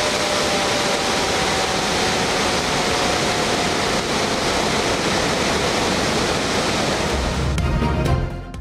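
Floodwater rushes through the opened spillways of Rawal Dam in Islamabad after heavy rains, making a loud, continuous roar with a deep thump near the end.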